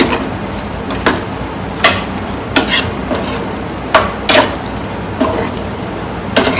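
A spoon scrapes and knocks inside a pan, loudly mixing a papaya and prawn curry in a regular rhythm of sharp strokes roughly every second over a soft background hiss.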